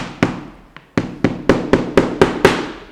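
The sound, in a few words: hammering leather sandal sole layers over a table leg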